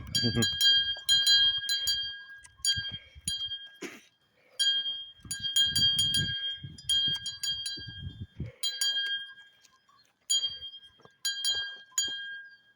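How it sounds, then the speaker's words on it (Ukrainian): Bells, likely on grazing livestock, clink and jingle outdoors in the Carpathian mountains on a hot spring day, in repeated irregular bursts under low talk and noises close by. "Дзвони передзвони."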